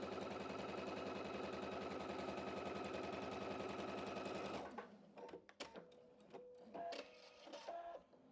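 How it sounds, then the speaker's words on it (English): A sewing machine stitches quilt sashing in a fast, continuous mechanical chatter for about four and a half seconds, then stops, leaving scattered clicks and fabric handling noises close by. "let's sew this down"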